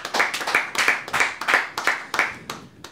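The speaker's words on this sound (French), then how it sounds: "Ça s'applaudit." A few people at a dinner party in Chambéry clap in short, separate bursts of sharp claps, close and fairly loud, fading toward the end.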